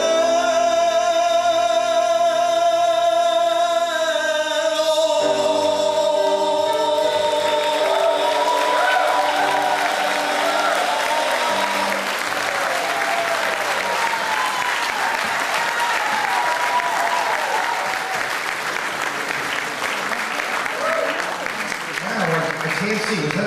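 A theater audience at an amateur players' show breaks into sustained applause that rises after a closing musical phrase, a dense wash of clapping carrying on steadily with murmured voices underneath.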